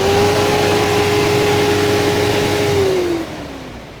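An Isuzu 4HK1 diesel truck engine runs steadily at a close, loud idle with a constant low hum and whine, then eases off near the end.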